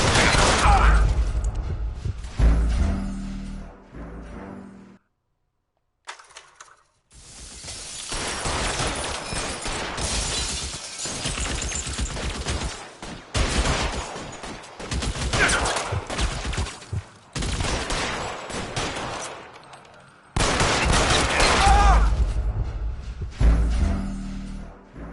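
Repeated gunfire in the 1940s Los Angeles crime game L.A. Noire, loud bursts of shots and rattling volleys with short pauses, mixed with game sound and mechanical clatter over about twenty-five seconds.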